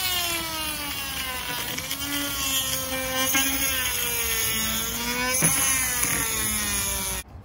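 A larger angle grinder cuts through a BMW E36 M3 plastic sideskirt, whining steadily and loudly with shifting pitch for several seconds before stopping abruptly.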